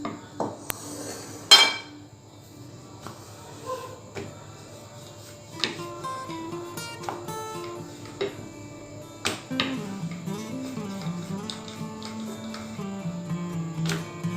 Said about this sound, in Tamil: இப்போ நான் திரட்டிக்கிறேன்.